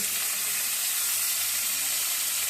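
Peas, carrots and onions hit a hot pan while chow mein is being cooked, producing a steady, close, even sizzle with a bright hiss throughout and no talking.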